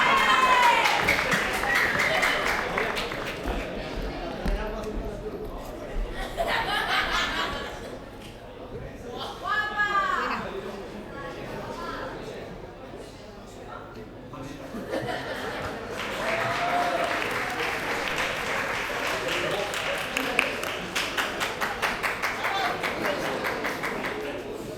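Audience at a vocational training graduation ceremony claps in sustained bursts of broad applause, with voices audible in between.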